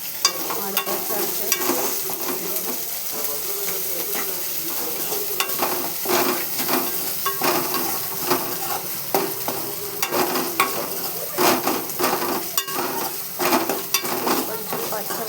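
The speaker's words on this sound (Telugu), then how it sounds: "కొంచెం పచ్చి వాసన ఉండాలి. కొంచెం వేగించుకోవాలి." Chopped ginger and turmeric frying in a pan on low heat, a steady close sizzle broken by repeated scrapes and clinks of a spoon stirring against the metal.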